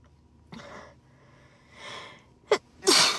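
A woman sneezes in a quick sequence of about three: a softer intake, a breathy middle burst, then two sharp, loud sneezes close together at the end, with no talking.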